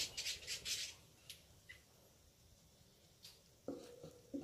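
Red-whiskered bulbuls, a breeding pair kept in a cage, give a quick run of faint, chattering squawks, then a few sparse chirps, ending with a sharper, louder call or two at close range.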